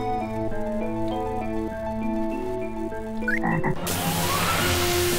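A frog croaks repeatedly in Final Fantasy VII, rhythmic game croaks layered over steady background music, then giving way to a broad rushing wash of in-game ambience near the end.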